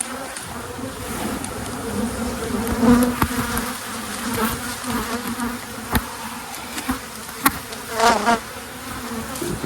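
Honey bees hum in a dense, steady buzz as a brood frame is shaken over an open hive, close to the listener, with sharp clicks and bumps cutting through the swarm sound.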